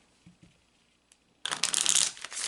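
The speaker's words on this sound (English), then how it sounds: "now we're going to shuffle the cards" A deck of Kipper fortune-telling cards being shuffled close up, a burst of crisp riffling and flapping that starts abruptly after a quiet moment and continues steadily to the end.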